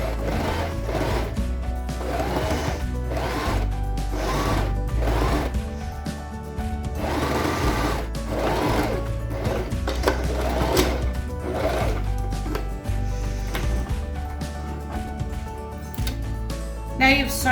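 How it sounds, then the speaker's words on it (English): A sewing machine stitches fabric for a cushion cover in a steady, rhythmic whirring hum with regular pulses, close and fairly loud throughout. "When you're sewing, make sure you keep your fingers away from the needle"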